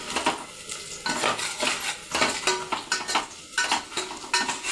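Chopped onion fries in oil in a pan until golden brown, with a steady sizzle under rhythmic, close scraping strokes of a spoon stirring it at roughly one-second intervals.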